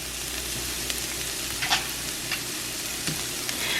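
Celery, onion and mushroom sizzle in butter in a pan, a steady close crackling fry with a few soft clinks of stirring, no voices.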